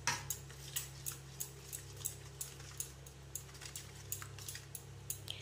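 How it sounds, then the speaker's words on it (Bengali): A spoon stirring chopped onion and coriander into a tomato and wheat-flour batter, with light, rapid clinks against the bowl in a steady rhythm under a low background hum. "দিয়ে এই মিশ্রণটাকে ভালো করে মিক্স করে নেব।"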